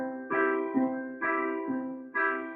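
Three chords struck one after another on a MIDI keyboard, each a triad started on the third and fifth and then pedaled back to the root. The struck attacks decay into ringing sustained tones, steady and close, with no talking.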